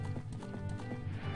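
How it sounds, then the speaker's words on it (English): Horse hoofbeats clip-clop in a quick galloping rhythm in The Legend of Zelda: Ocarina of Time, with a whinny mixed in, fairly quiet and up close. "Jump the fences, you stupid horse."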